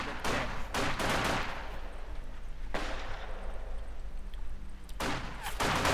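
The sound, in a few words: gunfire at a bunker in Company of Heroes 2 video game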